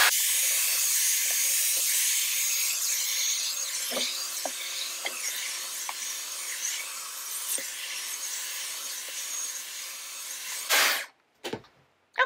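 A Dyson Airwrap blows at mid speed on long, thick hair, a steady close airy hiss with faint rubbing clicks, then the airflow cuts off near the end.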